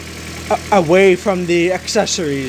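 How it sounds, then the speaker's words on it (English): A 2010 Toyota Corolla 1.8 engine with an aftermarket crankshaft pulley, idling with no accessories loaded; a low, steady hum sits beneath someone talking close to the microphone. "it's only the engine that's running alone"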